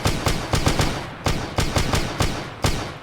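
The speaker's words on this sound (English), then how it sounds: "Just the sound of those rifles, though, it's super loud." Rifle fire in Arma 3, loud sharp shots in quick bursts and single cracks, about a dozen reports spread evenly over a few seconds, close and punchy with short decaying tails.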